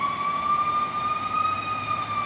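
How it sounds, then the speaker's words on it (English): Fire engine siren passing by outside, a loud steady wailing tone holding nearly constant pitch over a low traffic rumble, with no speech. "let's wait for this fire engine to go by."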